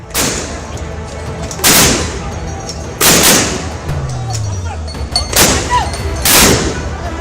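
Tear gas shells are fired at protesters during unrest in Sri Lanka: about five sharp, loud bangs come at irregular intervals over a constant background din.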